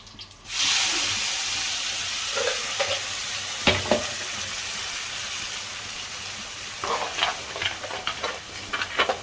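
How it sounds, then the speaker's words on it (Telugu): Ground curry-leaf spice paste fries in hot oil for a homemade fish gravy, sizzling loudly and steadily up close, with scattered spoon scrapes and taps as it is stirred. "నూరింటాం కదా అదాన్ని బాగా వేయించుకోవాలి"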